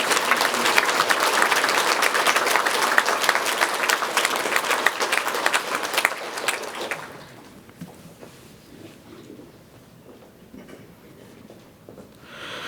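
Welcoming applause from a church congregation during a Sunday worship service, steady and full for about seven seconds before thinning into scattered claps and quiet room noise.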